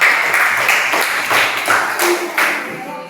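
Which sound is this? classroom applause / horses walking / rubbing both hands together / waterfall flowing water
classroom applause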